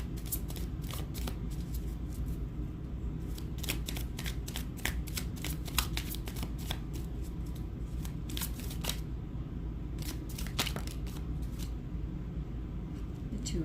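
Tarot cards being shuffled by hand ahead of a single-card draw, a steady close riffle of crisp papery flicks and slaps with a low background hum throughout, no voices.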